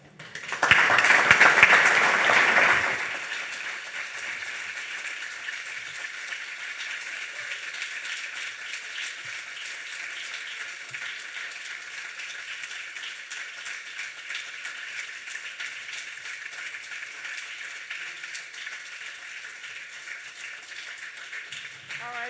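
Audience applause at a panel discussion, a loud burst of clapping for the first few seconds, then a long stretch of quieter, steady, rattling sound.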